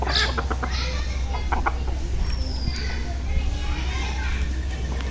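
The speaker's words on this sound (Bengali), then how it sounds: "ওই যে আরেকটা মুরগি" A chicken clucks in a village yard in a short burst of calls near the start, set against background voices and children playing.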